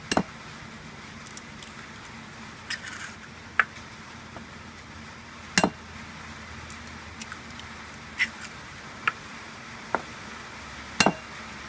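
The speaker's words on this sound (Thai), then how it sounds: "ตอกไข่สี่ใบลงไปเลยครับ" Sharp clicks and taps of four eggs being cracked against a bowl, scattered and intermittent over a faint background hum.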